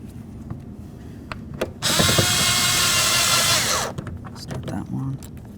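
A power tool drives two long bolts into the front inside door handle of a 1992-2000 Chevy Tahoe, whirring loudly and close for about two seconds before winding down, surrounded by clicks and handling noises with someone talking briefly.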